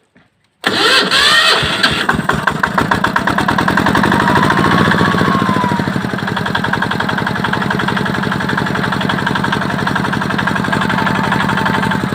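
A minitractor built from a walk-behind tractor, fitted with a new starter, cranks briefly and catches, then settles into a loud, steady, rapid idle that runs on alone.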